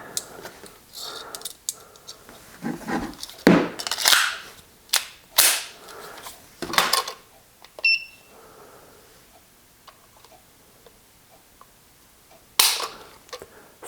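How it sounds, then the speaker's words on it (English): Cartridges are pushed into the magazine of a Ruger 22/45 pistol in sharp, close clicks and snaps, bunched in irregular groups with quiet gaps between them. A brief electronic beep sounds partway through. "Let me put these back into the magazine."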